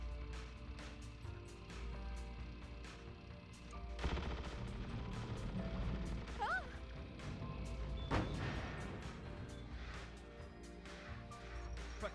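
Shooting in the video game Shadew: rapid, evenly repeated gunshots, fairly faint and steady across the stretch, with a few heavier crashes in the middle.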